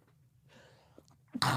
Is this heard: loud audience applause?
no